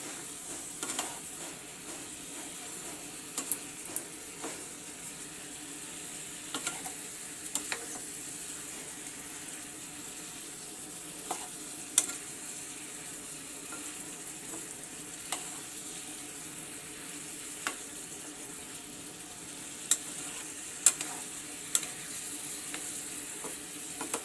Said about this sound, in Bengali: তরকারিটা আর একটু নেড়ে ছেড়ে দেওয়া হচ্ছে